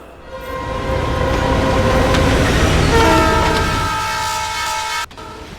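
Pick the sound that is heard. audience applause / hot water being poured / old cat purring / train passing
train passing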